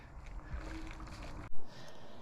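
Engine oil from a Vauxhall Insignia pouring steadily into a drain container, a continuous gurgling, sloshing stream close by that swells briefly near the end before settling back to a steady flow.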